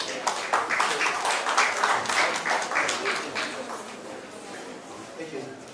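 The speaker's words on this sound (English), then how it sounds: "Please a round of applause as we make welcome Mr." An audience applauds to welcome a guest at an SME 25 Under 25 awards ceremony, the clapping dense and steady at first and then thinning toward the end, with a voice talking faintly underneath.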